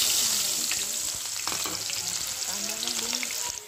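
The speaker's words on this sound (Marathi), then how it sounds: "परतून कांदा गोल्डन ब्राऊन रंगावरती परतून घ्यायचा" Chopped onion sizzles steadily in hot oil for a mutton sukka, a close, continuous frying hiss with occasional stirring scrapes.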